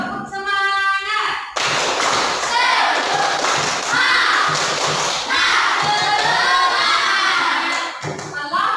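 Schoolchildren in an Indonesian classroom perform a 'tepuk semangat' clapping chant, a burst of loud rhythmic group claps and thumps mixed with excited young voices after a teacher's brief spoken cue.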